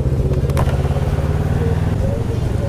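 A BMW engine running with a deep rumbling throb, steady and close, with a couple of sharp clicks near the start and a voice speaking over it.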